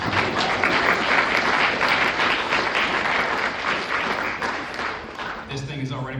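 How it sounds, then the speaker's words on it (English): Audience applause at a sports journalism association gathering, steady dense clapping from a crowd that sustains for several seconds before fading, with a voice briefly emerging at the end. "So everybody, a round of applause for Amy Just."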